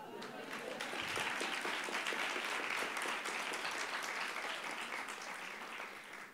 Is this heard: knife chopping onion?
no